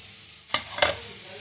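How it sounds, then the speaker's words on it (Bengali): Banana stem frying in plenty of oil with nigella seeds and dried chilli: a brief quiet hiss broken by two sharp bursts of stirring and sizzling close at hand. "কালো জিরা শুকনো লঙ্কা ফোড়ন দিয়ে তেল বেশি করে দিয়ে ভাজা করলাম"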